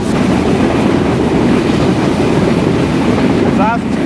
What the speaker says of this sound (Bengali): আজকে আমরা ভ্রমণ করতেছি উত্তরবঙ্গের সবচেয়ে লাক্সারিয়াস ট্রেন চিলাহাটি এক্সপ্রেস ট্রেনে করে